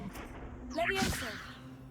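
The Levioso levitation spell in Hogwarts Legacy: a quick, bright swishing whoosh with a short shimmering tail, set over soft background game ambience.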